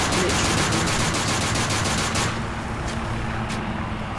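Loud continuous gunfire from the video game Call of Duty: Modern Warfare 3 Survival mode, rapid automatic shots crackling densely for the first half and then thinning out, with no talk over it.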